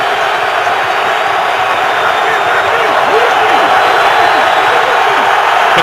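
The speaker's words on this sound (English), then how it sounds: "The crowd into it now." Stadium crowd at an NFL game between the Steelers and Browns in Cleveland, a steady loud roar of cheering that swells slightly toward the end, heard throughout without clear talk.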